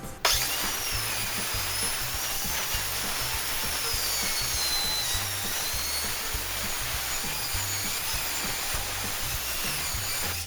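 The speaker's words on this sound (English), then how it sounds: "Here's how I'm cutting my metal." Metal roofing sheet being cut for a pole barn roof, a loud continuous high grinding screech held steady for the whole stretch, close by with no talk.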